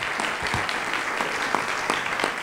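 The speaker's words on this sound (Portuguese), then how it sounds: "quero pedir uma enorme salva de palmas a todos os nossos finalistas" Steady, sustained applause from an auditorium audience at the final of a speaking contest, dense and even throughout, with a few louder individual claps standing out.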